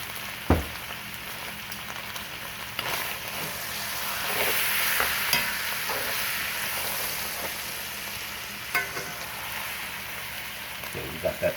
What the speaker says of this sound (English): we got that sear going on right now